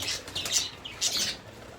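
Pigeons flap their wings in two quick bursts of fluttering, close by, with a short pause between them.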